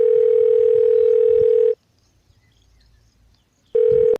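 Telephone ringback tone while a call is being placed: a loud, steady electronic tone holds for almost two seconds, falls silent for two seconds, then starts again for the next ring.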